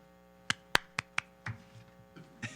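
A few scattered, close hand claps at a city council meeting, four or five sharp individual claps in quick succession followed by softer taps and faint rustling rather than full applause.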